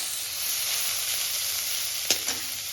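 Dry fish seasoned with salt and turmeric fries in oil, making a constant, close crackling hiss. Two sharp utensil clicks near the end break the sizzle briefly, and no one speaks.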